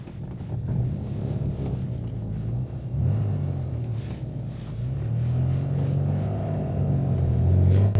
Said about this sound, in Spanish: Ese es otro cambio de marchas